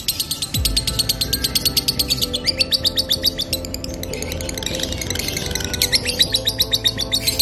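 A male lovebird sings a rapid, continuous stream of high, bright chirps and trills, close and loud, pulsing in quick repeated bursts for several seconds with no voices.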